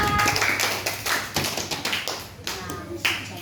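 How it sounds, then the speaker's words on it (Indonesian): Applause from a fourth-grade elementary school class for a pupil, with scattered, uneven claps and taps from small hands sounding close, and a teacher's voice faintly beneath. "Tepuk tangan untuk Riswa."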